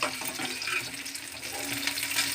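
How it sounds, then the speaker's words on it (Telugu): Green chillies frying and being stirred in a pan give a steady, close, fairly even hiss with soft scraping running throughout. "ఇలా మధ్య మధ్యలో కలుపుతూ ఇలా బాగా వేపుకోవాలి."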